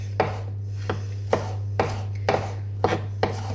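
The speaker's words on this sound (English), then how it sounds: "just slicing up the chilli really quickly. Just dicing it." A knife chops chilli on a board in quick, repeated strokes, about seven crisp cuts at a steady pace, close and clear over a constant low electrical hum.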